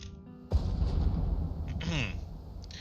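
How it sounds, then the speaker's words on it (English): Artillery in the strategy game Regiments fires with a heavy, rumbling boom that opens into a sustained roar of battle noise, with faint whistling sweeps partway through. "Is your artillery still firing? Sure is."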